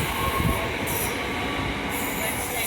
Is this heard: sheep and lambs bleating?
no